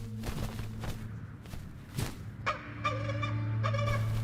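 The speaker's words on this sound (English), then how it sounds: "Why does he sound like a turkey?" In The Lord of the Rings: Gollum, a creature gobbles like a turkey in a couple of warbling, throaty bursts over a low ambient drone, with soft footstep-like thumps between them.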